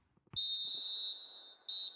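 A referee's whistle in a football video game blows for the end of the first half of a Champions League final, Barcelona against Liverpool: one long shrill blast followed by a shorter second one, clear and loud.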